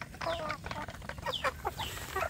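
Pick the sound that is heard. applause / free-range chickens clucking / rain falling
free-range chickens clucking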